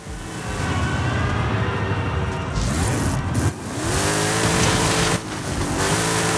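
A 1100 HP 7-litre V8 car weighing 916 kg accelerates hard in first gear, its loud engine roaring and climbing in pitch, with a brief gearchange dip and a continuing rising roar.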